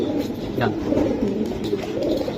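An old-breed pigeon coos in steady, low rolling phrases through the whole stretch, close and fairly loud, with a faint murmur of background noise underneath.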